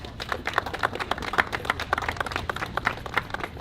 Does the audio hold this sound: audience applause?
yes